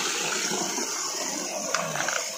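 Steady rushing water from an artificial mini waterfall, a continuous broadband gush at close range with a few brief splashy accents near the end, no voices.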